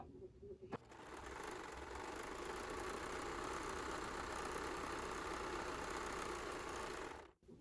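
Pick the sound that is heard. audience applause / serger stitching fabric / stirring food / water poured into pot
serger stitching fabric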